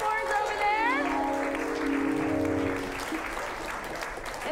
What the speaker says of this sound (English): So let's give a round of applause to Jake Hall